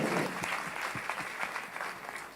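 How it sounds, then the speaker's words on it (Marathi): An audience applauds a grandfather at a health insurance talk, steady dense clapping from many hands throughout, fading slightly at the end. "टाळ्या वाजवू शकतो आपण आजोबांसाठी"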